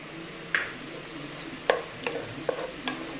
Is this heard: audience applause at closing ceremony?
no